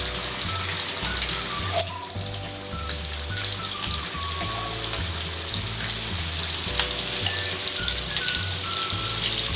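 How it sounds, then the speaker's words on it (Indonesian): Potato pieces fry in hot oil with a steady, soft sizzle throughout, joined by a low rhythmic mechanical hum in the background. "Sementara kentangnya kita goreng"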